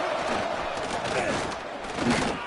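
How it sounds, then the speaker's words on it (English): Roaring stadium crowd in the NCAA 26 college football video game, a dense, continuous rumble of cheering that swells and surges, loud and enveloping. "wow, listen to this crowd noise. This stadium is vibrating."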